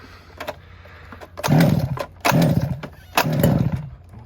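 A gas-powered Losi DBXL 2.0 RC car engine sputters and catches in three loud bursts after being choked, revving briefly and dropping back each time, close by with no talking.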